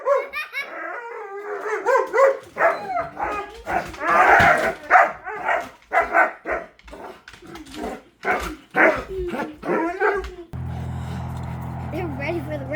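Several excited dogs bark, yelp and howl in loud, rapid bursts as they get ready for a car ride, with people talking over the din.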